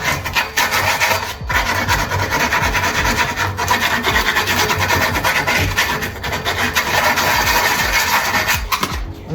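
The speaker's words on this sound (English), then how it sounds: "after you cut your pipe to get a little sandpaper and kind of sand it" A freshly cut pipe is sanded with sandpaper, giving a steady, continuous rasping rub that runs loud and close throughout with no talking.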